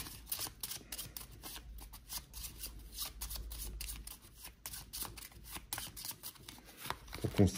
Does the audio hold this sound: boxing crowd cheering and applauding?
no